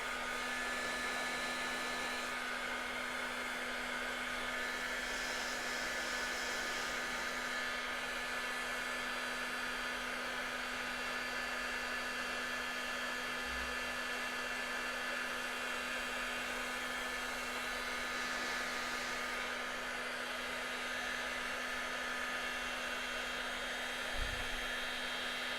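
A heat gun set to about 300 °C heats thermoplastic sheet for a hand-wrist orthosis, giving a steady, loud blowing hiss that runs unbroken throughout, with a constant hum beneath and no talk.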